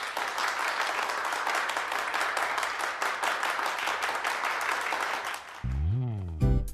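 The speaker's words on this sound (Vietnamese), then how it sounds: "Chúng ta cho một tràng pháo tay để chào đón khách mời chính của chúng ta" Audience applause welcoming a guest speaker at a talk on artificial intelligence, a dense steady wash of clapping that runs for several seconds before breaking off into a brief rising tonal swell.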